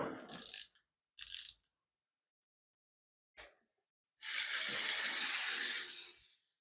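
A wound-up clockwork toy car runs on the floor in short bursts: two quick whirring clicks of the spring mechanism, a brief tick, then a longer buzzing run that winds down, faint and close with pauses between.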